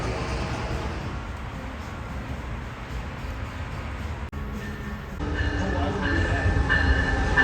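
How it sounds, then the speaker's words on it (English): A Brightline train arriving on its first run to Orlando, a steady rumble of rail cars rolling in that swells louder near the end, with tonal squeal and clatter as it draws close. "The first ever Brightline to Orlando."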